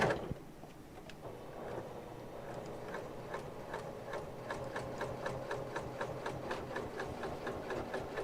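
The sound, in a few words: sewing machine sewing a fabric binding strip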